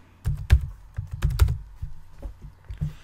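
Keys clack in a quick irregular burst on a computer keyboard while a formula is entered in an Excel spreadsheet, close and clear with no talking.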